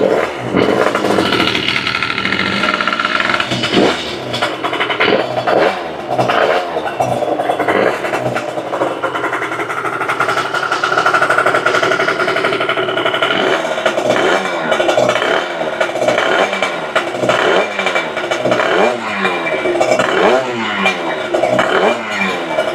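A Stage 6 RT 70cc moped engine with the wrong exhaust fitted starts and revs loudly, a continuous close buzzing drone whose pitch climbs and falls with repeated throttle blips for the whole stretch.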